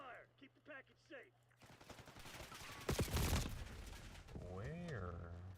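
Bursts of rapid gunfire and a fusillade in the shooter game Deadlock, loud and dense for a few seconds between stretches of in-game voice lines and effects.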